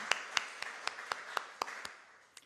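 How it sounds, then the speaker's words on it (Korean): Church congregation at a Thanksgiving Sunday service clapping in thanks to God, a steady rhythmic series of about ten distinct claps, moderately loud and fading toward the end, with no talking. "우리 한번 하나님께 감사의 박수 드립니다"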